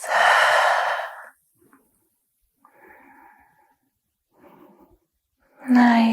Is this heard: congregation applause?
no